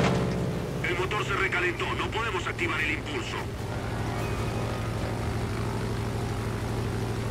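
A propeller warplane engine from the World of Warplanes video game drones steadily and loudly throughout, with someone talking over the first few seconds.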